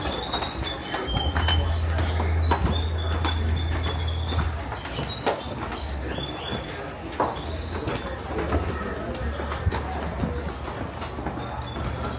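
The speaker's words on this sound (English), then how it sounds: "You just listen to the birds and the dogs shouting." Birds calling and cooing outdoors in Rocinha favela, Rio de Janeiro, over a busy, steady background wash with a low rumble, the calls scattered throughout.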